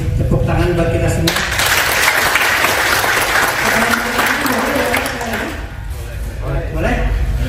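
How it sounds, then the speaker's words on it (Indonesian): Applause from a gathered group at a school or community assembly, dense and loud for several seconds before thinning out, with voices mixed in underneath. "Tepuk tangan buat kita semua."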